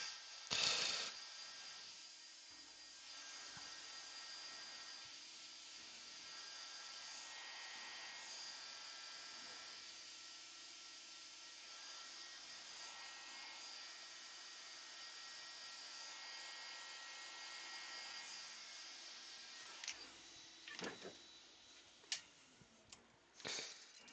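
Heat tool blowing a steady airflow hiss to dry off wood, constant and fairly even for most of the stretch, with a few sharp clicks and knocks near the end.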